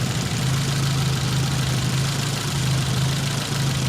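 A Nissan 200SX engine idles steadily with a low, even hum, wavering slightly and running on the intake-side coil only, with no voices.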